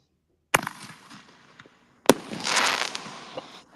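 Two sharp firework mortar launches roughly a second and a half apart, each a loud crack followed by a crackling, hissing burst that fades, the second louder with a longer shimmering tail.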